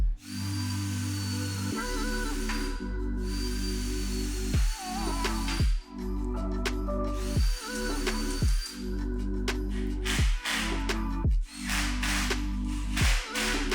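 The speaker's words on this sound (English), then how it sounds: "Screw the support to the infill panel at even increments using 28mm screws." A power drill drives 28mm screws through a support into a kitchen cabinet infill panel. The motor whirs loud and close in repeated bursts, each winding down sharply as a screw seats.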